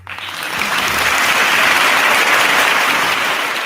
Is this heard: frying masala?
no